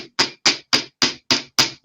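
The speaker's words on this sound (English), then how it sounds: "and hammer that" Jewelry wire hammered on a bench block resting on a velvet pad: seven crisp, evenly spaced metallic strikes, close and loud, each with a quick ringing decay.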